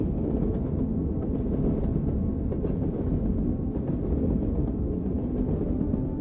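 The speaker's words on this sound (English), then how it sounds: "The gentle movement of the train, the sound of the raindrops, and the peaceful atmosphere of the cabin all contribute to a sense of relaxation" A train moving along rails, a steady low rumble and rolling drone with faint clicks, continuous and even, heard from inside a cabin with no voices.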